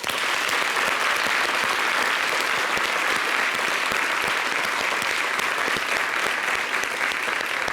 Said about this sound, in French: on les accompagne avec des applaudissements.